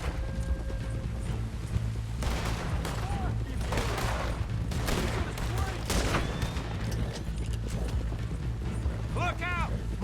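Rifle fire in the video game Red Dead Redemption II, several sharp gunshot bursts in quick clusters amid horse hooves and game noise, with someone talking over the action.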